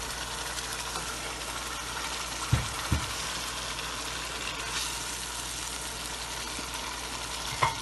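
Minced meat (keema) sizzles steadily in a hot pan, a constant close hiss of frying broken by a few soft clinks of utensils.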